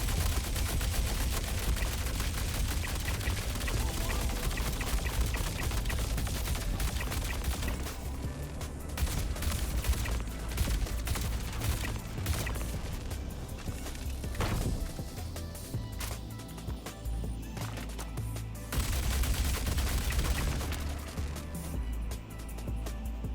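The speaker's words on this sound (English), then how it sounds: "If he gets on it and starts firing at you, keep in mind that those turrets are yellow jackets." Turret and gun fire in the Star Citizen video game, set around a cargo lift, roars as a dense, sustained barrage of rapid shots and heavy impacts, loud and constant throughout.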